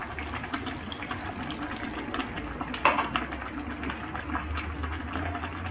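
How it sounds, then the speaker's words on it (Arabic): Water is poured from a glass into a simmering tomato and onion sauce in a home kitchen, a steady watery fill with a brief louder splash midway over a low background hum. "غادي نزيد واحد كاس ديال الماء"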